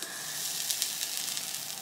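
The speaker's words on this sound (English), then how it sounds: "listen to that sizzle" A hot styling comb sizzles against hair, a steady close hiss with small crackling bursts, moderately loud and without any talking.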